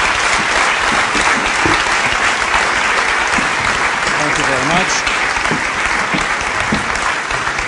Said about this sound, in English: please give them a great big round of applause for that wonderful context